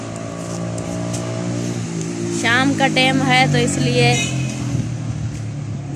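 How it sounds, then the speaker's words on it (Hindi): Motorcycles passing along a main road in the evening, a steady engine drone with a louder pass in the middle of the clip, heard under continuous nearby talk. "मोटरसाइकिलें की आवाज़ें आ रही हैं, और हम इधर मेन रोड पर खड़े हुए हैं।"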